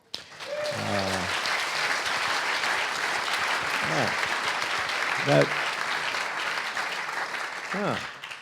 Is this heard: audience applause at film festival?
yes